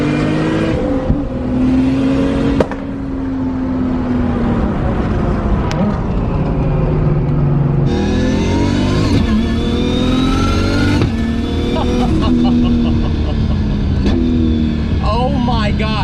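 A 1,200hp Nissan Skyline R34 GT-R engine roars loud and close as the car accelerates, with repeated rising revs broken by quick gear shifts and crackles. A person talks over the engine noise.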